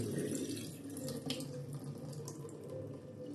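Water poured out of a pot of rinsed rice, being drained a second time while making fried rice, a steady splashing gush into a sink running throughout at close range.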